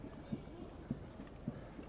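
Hooves of mounted police horses on a road in central London make three faint, evenly spaced clops against a quiet outdoor background.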